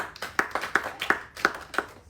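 A congregation claps during a worship service, with about six sharp, fairly even claps close together over roughly two seconds and no voices.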